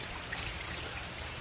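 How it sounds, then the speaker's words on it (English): Steady rain falls all day outdoors, a constant even hiss with no breaks and no voices over it. "our family reunion got canceled because it is raining"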